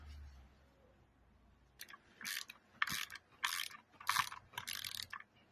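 A ratchet tightens the timing chain tensioner bolts on a BMW N47 diesel engine in five or six quick bursts of close, crisp clicking, separated by brief pauses, in a quiet workshop.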